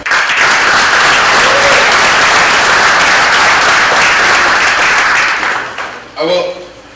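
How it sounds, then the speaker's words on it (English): A crowd at a Lawrence Veterans Day 2019 ceremony applauds veteran service organizations, a dense, loud wash of clapping lasting several seconds before fading as a voice resumes. "a round of applause to them as well"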